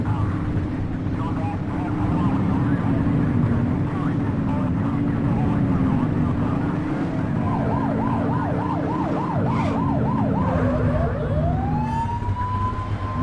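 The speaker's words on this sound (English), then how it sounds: "Turn that siren off." A police siren in the video game The Precinct wails, rising and falling rapidly over a constant engine drone, ending in a long upward sweep; voices talk intermittently.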